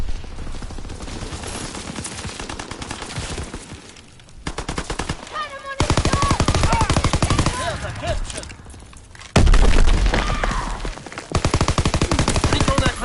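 A PPSh submachine gun fires in the Call of Duty WWII beta, with long rattling automatic bursts, close and loud, broken by short pauses and mixed with other in-game gunfire and effects.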